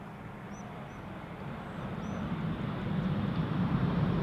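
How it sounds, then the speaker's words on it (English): A Boeing 787-10 Dreamliner airliner at Schiphol Airport, heard as a distant, even engine roar that slowly swells louder, with no other sounds. "It's a 787-10 Dreamliner, 4 years old, first flight October 2019"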